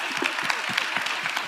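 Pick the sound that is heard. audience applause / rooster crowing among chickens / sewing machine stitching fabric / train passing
audience applause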